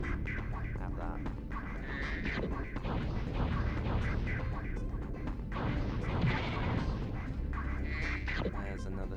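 Spyro shooting seaweed in the Spyro 2 video game, with repeated sharp blasting impacts and crunches over game music and effects, while someone talks over the gameplay.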